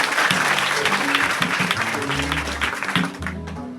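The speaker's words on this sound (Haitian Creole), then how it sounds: "On nous bâtit un gros bravo pour mon Dieu." A congregation at a patronal feast in Corail Barlatier claps loudly and densely, a full room of hands together. A low sustained musical tone sits beneath the applause before it fades at the end.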